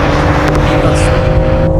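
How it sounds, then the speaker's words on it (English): A BMW X3 M Competition SUV launching hard with launch control, its engine roaring loud and close in a continuous rising drone as it accelerates, with a brief hiss of tires or exhaust partway through. "Let's see how that feels with a little bit of launch control and go."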